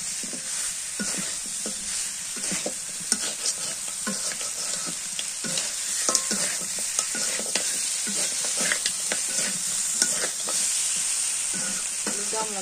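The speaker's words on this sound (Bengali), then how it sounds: "ভেজে রাখা মাংস দিয়ে দিলাম। এখন এটাই এর মধ্যে কষাই দিই।" Mutton (goat meat) stir-fried in spice paste in a pan, giving a steady, close sizzle broken by repeated scraping stirs of a spatula, with no talk.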